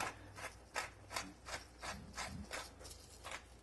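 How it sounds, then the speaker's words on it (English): A hand-turned pepper grinder cracks peppercorns in about ten even, rhythmic gritty grinding bursts, close and steady, with no talk. "And a little more pepper, which this grinder here."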